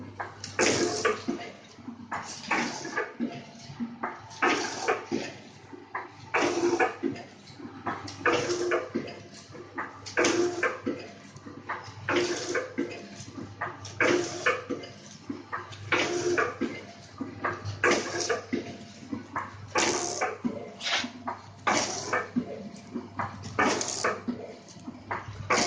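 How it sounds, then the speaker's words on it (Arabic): Automatic filling and packaging machine, model 952, for very fine powders such as starch, coffee, flour and ground sugar, running with steady rhythmic mechanical pulses of filling and sealing against a constant low hum. "نشغل. نقدر نعبي عليها البودر، جميع انواع البودر، النشا، البن، الدقيق،"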